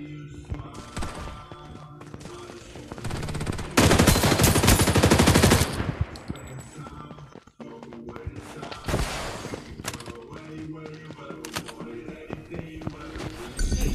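Video game gunfire crackles in repeated automatic bursts, with a dense, loud volley in the middle, a brief drop to near silence, and then more rattling fire.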